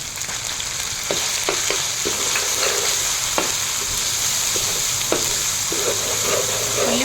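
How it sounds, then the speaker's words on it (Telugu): Onions with green chili and ginger-garlic paste fry in oil for a spinach chicken curry, a constant loud sizzle broken by scattered sharp clicks of a spoon stirring against the pan. "ఉల్లిపాయలు చికెన్ కూరలోకి బాగా వేగాలండి వేగితేనే బాగుంటుంది"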